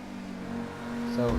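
A car engine in GTA Online revs hard toward about 9,000 RPM, its steady tonal drone climbing in pitch and swelling loud near the end, with a voice talking over it.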